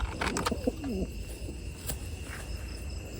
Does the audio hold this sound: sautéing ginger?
no